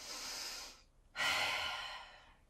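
A yoga practitioner breathes steadily through an exercise: one long, soft airy exhale, a brief pause, then a fuller, louder breath tapering off, heard close and alone.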